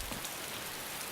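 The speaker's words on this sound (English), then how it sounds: "Damn rain making it lag." Steady rain in the survival game DayZ, a faint, continuous patter of drops with no voices present.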